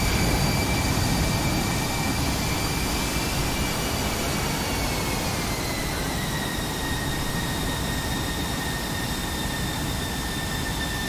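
A Super F-16 jet rolls for takeoff in a flight simulator, with a loud, steady broadband engine roar and a high turbine whine that slowly drops in pitch, continuous and close with no talking.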